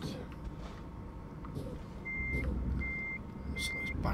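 A truck in Euro Truck Simulator 2 reverses, giving three evenly spaced high electronic beeps over engine rumble, with someone talking faintly underneath.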